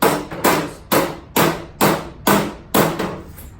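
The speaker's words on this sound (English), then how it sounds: "you want to start bending it over with the broadhead hammer first" Seven evenly spaced, sharp metal strikes from a broadhead hammer bending over the rusty rear hatch metal of a 260Z, each blow ringing briefly before the next, close and loud with no talk.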